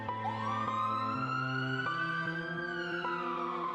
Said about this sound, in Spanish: La ambulancia llega en minutos